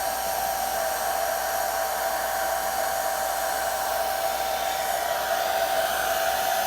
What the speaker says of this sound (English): I'm going to turn on the hairdryer.